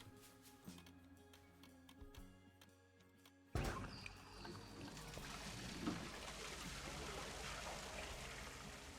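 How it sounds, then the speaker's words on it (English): A toilet flushes nearby with a sudden loud rush of water that keeps gushing and gurgling steadily after a quiet room, with no talking. "Somebody flushed the toilet."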